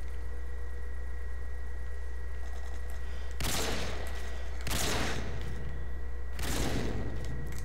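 Call of Duty: Modern Warfare 2 gunfire, three loud separate blasts a second or so apart, each with a short crackling tail, over a steady electrical hum.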